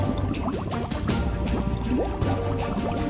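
Water pouring and splashing into a small fish tank, a continuous bubbling fill with drips and gurgles, close and moderately quiet.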